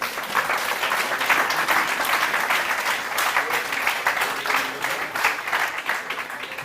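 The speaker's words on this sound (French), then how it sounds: "je pense qu'ils ont le droit qu'on les applaudisse encore une fois" Audience at a tech conference event breaking into sustained applause, a broad continuous patter of many hands that swells slightly and holds steady for several seconds, with no voices on top.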